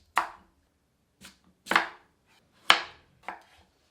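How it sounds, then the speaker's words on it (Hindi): A knife chops peeled pumpkin into small pieces on a board, with five sharp, close strikes in an uneven rhythm separated by brief silences. "इसे छीलकर छोटे टुकड़ों में काट लेते हैं।"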